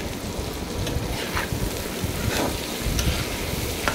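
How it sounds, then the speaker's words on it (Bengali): Potatoes frying in a pan for a gourd and prawn curry, giving a steady close sizzle with faint stirring scrapes throughout and no talk. "লবণ দেওয়ার পরেও আমি আবার আলুটাকে ভেজে নেব।"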